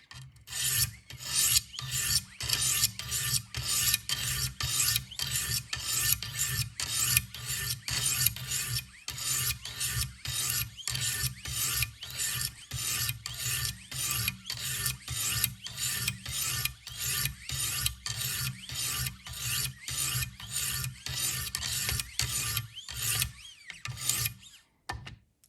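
A Buck 422 Bucklite knife is sharpened on a Wicked Edge system with 100 grit stones, giving a long, even series of close, raspy strokes in a steady rhythm without speech.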